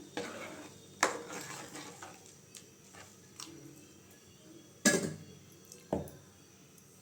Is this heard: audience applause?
no